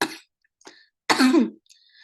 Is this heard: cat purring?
no